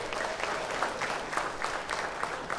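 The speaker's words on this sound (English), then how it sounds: "Please give them a round of applause." Applause for the panelists at a political party town hall meeting, moderately distant and steady, a sustained wash of many hands clapping without voices.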